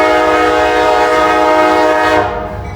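Loud, sustained horn of a southbound CSX freight train approaching on a former Louisville and Nashville short line, steady chord blasting for over two seconds before easing off, with faint rail rumble underneath.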